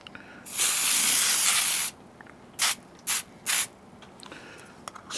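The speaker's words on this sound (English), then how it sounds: "Spray the plastic" A can of cooking spray hisses onto plastic wrap laid over rolls: one long burst, then three short squirts, close and loud.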